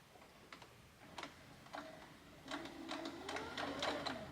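A sewing machine stitches back and forth across the fold of a tote bag, with faint, quiet short runs of rapid ticking stitches that grow slightly steadier toward the end.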